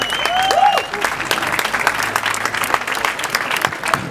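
An audience at a Berlin book release event bursts into loud, dense applause for the author, sustained throughout with a brief whistle near the start and crowd noise beneath.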